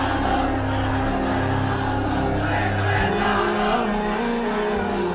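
A large crowd chants slogans together, a loud, continuous mass of shouting voices that holds steady throughout.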